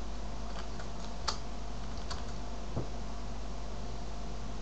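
A computer keyboard is typed on at a desk, with a few sparse, light keystrokes that sit faintly over a steady electronic hiss.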